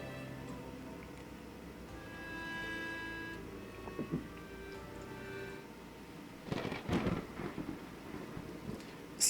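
A thunderstorm with rain in the pirate video game The Pirate's Fate: a steady hiss of rain under a low rolling rumble, then a sharper, closer crack of thunder near the end.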